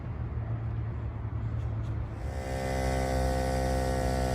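A Pittsburgh automotive air compressor runs while inflating a tire at a campground, a steady loud motor hum with a buzzing tonal drone that intensifies partway through.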